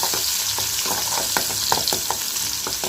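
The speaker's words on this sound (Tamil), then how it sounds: "வெங்காயத்தை சேர்த்து நல்லா வதக்கி விட்டுக்கலாம். வெங்காயம் நல்லா வதங்கட்டும்." Sliced onions sauté in a hot pan while a raw banana poriyal is cooked. A steady, close sizzle runs throughout, broken by regular scraping taps of stirring.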